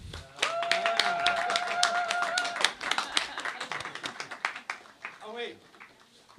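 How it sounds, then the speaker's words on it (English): A festival food-forum crowd breaks into applause, dense overlapping claps that swell quickly and then thin out, with cheering voices and a whistle-like tone mixed in over the clapping. "let's get a big round of applause for JM"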